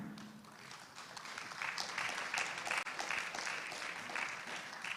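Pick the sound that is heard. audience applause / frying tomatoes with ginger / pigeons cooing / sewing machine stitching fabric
audience applause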